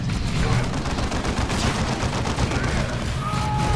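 Dense, continuous gunfire crackles from the Dawn of War II battlefield, a steady loud fusillade of overlapping shots with little pause.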